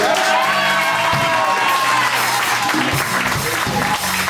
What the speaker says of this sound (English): If you think that this was worth the time, let me get some applause.